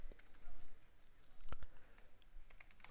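Computer keyboard typing, a short burst of quick, light key clicks close by with one sharper tap in the middle, quiet overall.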